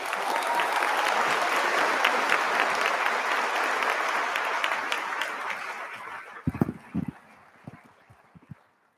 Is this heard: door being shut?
no